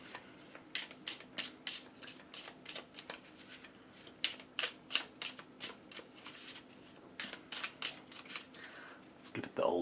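Rapid, crisp riffle shuffles of a tarot deck on playing card stock, repeated in quick fluttering bursts throughout, close up and fairly loud.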